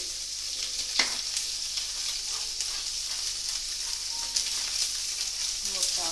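Steak seasoning and salt are stirred in a bowl, giving a soft, continuous scraping hiss with a few light clicks, faint and steady throughout.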